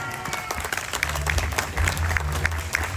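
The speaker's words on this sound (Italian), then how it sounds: "perché è partito l'applauso?" Audience applause in a television studio during an Italian evening talk show, a steady burst of clapping that builds and holds over low background rumble, with brief voices underneath.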